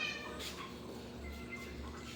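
Pet cats meow before feeding, faint mewing calls over a low background hum, with no clear talk over them.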